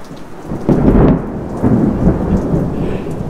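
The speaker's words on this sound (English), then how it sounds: "We have these really big lightning and thunderstorms." Thunder rumbles loudly through a heavy rainstorm, one of the daily late-afternoon lightning storms, with two big rolling swells over steady rain noise and no voices.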